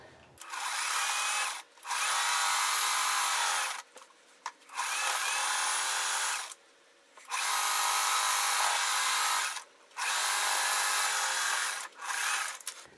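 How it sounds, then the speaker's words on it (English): A sewing machine stitches through a quilt-as-you-go flamingo quilt in repeated loud bursts of about two seconds each, separated by short pauses. "I'm pushing this one down about a half of an inch, and I'm just going to sew."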